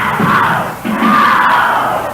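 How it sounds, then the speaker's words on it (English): A rally squad chants a loud cheer on the floor of a school gym before a 1971 basketball game, with voices shouting in unison in two rhythmic phrases that echo through the hall. "the rally squad is out with a cheer in the middle of the floor"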